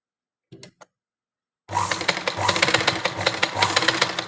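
A sewing machine stitching a blouse with small, tight stitches runs steadily and close up after a brief pause, its rapid mechanical whir carrying a rhythmic clatter that continues to the end.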